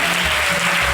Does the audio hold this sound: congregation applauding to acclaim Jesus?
yes